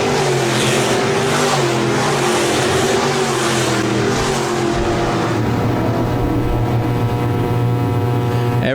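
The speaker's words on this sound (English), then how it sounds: "Cars starting to get stretched out now around Park Jefferson Speedway here in the heat race number 2 for the IMCA SportMods." IMCA SportMod race cars roar through a heat race at Park Jefferson Speedway, a dense, continuous engine drone from several cars, with a loud pass early that settles into a steadier hum.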